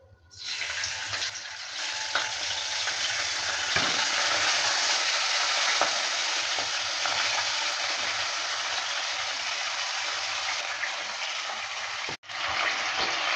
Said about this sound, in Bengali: সর্ষের তেলটা হিট হয়ে গেছে এবার দিয়ে দিচ্ছি মাছ